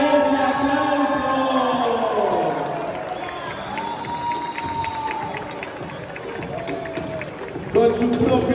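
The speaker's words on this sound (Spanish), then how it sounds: "¡Fuerte ese aplauso!" An audience applauds and cheers at the Down Festival inclusive fashion show as a model and her mother walk the runway, with sustained crowd noise and an amplified announcer's voice speaking over it.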